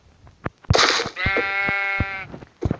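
Sheep bleating in the mobile game Minecraft PE, one clear sustained bleat with a few sharp clicks and taps around it, near and loud.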